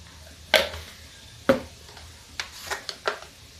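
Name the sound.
tomatoes and turmeric frying in pan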